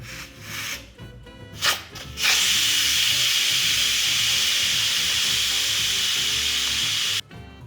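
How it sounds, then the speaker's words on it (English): Instant Pot pressure cooker venting steam in a loud, steady hiss that starts after a few handling knocks, runs for about five seconds and then cuts off abruptly. "carefully release the steam"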